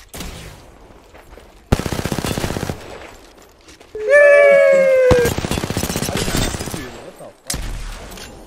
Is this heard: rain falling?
no